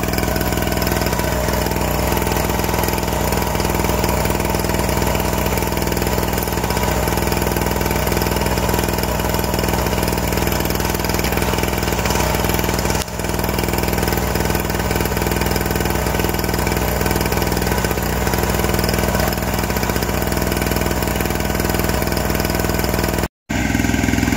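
INGCO 900W gasoline generator running steadily at a constant drone, loud and close, with no variation in pitch, powering a router and phone charger indoors.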